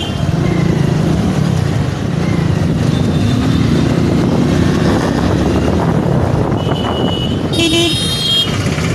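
Motorbike riding through city traffic, with loud continuous engine and road noise close by and car horns tooting briefly, including a sharp honk near the end.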